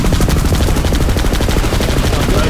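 Rapid automatic gunfire in the video game PlanetSide 2 rattles in a loud, continuous stream of closely spaced shots, with several weapons overlapping in a dense battle barrage.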